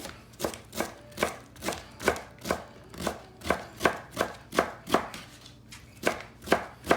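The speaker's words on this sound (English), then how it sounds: "I also have a little bit of bok choy, and so I'm gonna shred this as well" Bok choy is shredded with a knife on a cutting board in steady, evenly spaced chops, about two per second. Each stroke lands close and distinct with a soft crunch, and nobody speaks.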